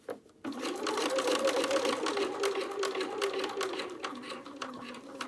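A sewing machine stitches binding onto a quilted jacket, starting after a short pause and running in a fast, steady mechanical whir with a rhythmic needle clatter for several seconds, close and fairly quiet.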